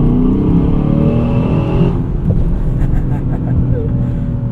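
A 2024 Aston Martin DBX 707 engine accelerating from inside the cabin, a loud continuous low drone whose pitch climbs then drops and settles as the throttle is worked, with a voice talking over it.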